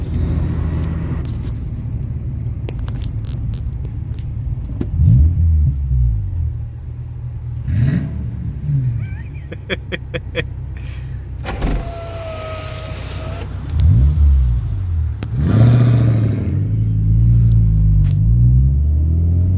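A Toyota 4.7 V8 with a 3-inch straight pipe exhaust rumbles low and steady, with several rising revs swelling up near a wall. The sound is loud and close with no talking.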